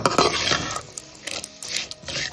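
Onions are sautéed in a pan for onion dosa, with a spatula clattering and scraping against the metal in quick bursts over a soft, hissing frying sound.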